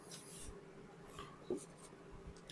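A pen scratches notes by hand during a biology lecture on muscle tissue, a quiet sequence of short scratchy strokes and taps close by with no one speaking.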